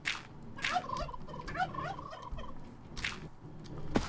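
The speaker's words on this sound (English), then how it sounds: "Shut up, turkeys." Turkeys gobble repeatedly in a Minecraft world, several bursty calls spread across the moment over a steady game ambience, with the last one loud and close.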